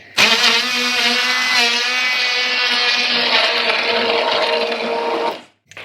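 A hand blender whirring through cooked carrot and parsnip soup, a loud steady motorised buzz that starts abruptly, holds for about five seconds with slight wavering and cuts off sharply.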